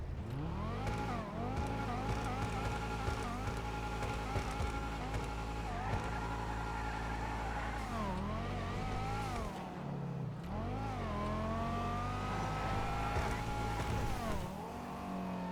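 Bravado Banshee HSW sports car from GTA Online, its engine revving and climbing through gears in a continuous loud, rising and falling roar with brief shifts, close and alone without talk.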